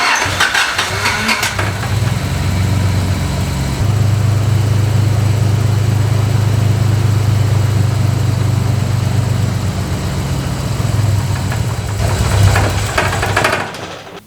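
A 1986 Nissan 300ZX cranks and fires up, then settles into a loud, steady, close-up idle with a deep rumble; a rough, uneven burst marks the start and the engine note wavers again near the end.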